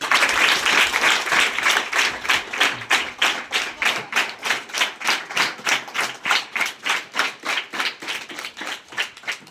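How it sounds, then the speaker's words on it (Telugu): An audience at a school awareness program applauds: loud massed clapping at first, which settles into steady rhythmic unison clapping that carries on for several seconds, close by. "క్లాప్స్."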